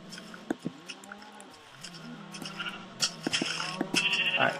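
Minecraft sheep bleat in a game, several short bleats scattered over a few seconds amid game clicks and quiet background sounds, moderately close.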